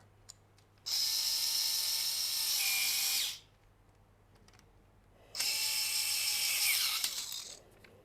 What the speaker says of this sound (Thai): ให้เราวัดขนาดฐานตรงนี้ให้เรียบร้อยนะครับ แล้วก็เจาะลงไปนะครับ